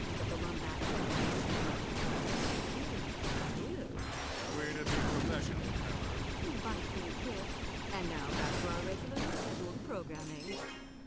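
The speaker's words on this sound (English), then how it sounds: "I can't hardly hear you over the sound of all this gunfire." Rapid, continuous gunfire and blasts from the video game Ratchet & Clank: A Crack in Time, with dense overlapping bursts and a voice talking beneath the chaotic barrage.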